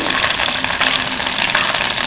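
Mustard seeds and slit green chillies frying in hot oil for a Kerala fish curry, a loud, continuous close-up sizzle with faint crackles and no talking.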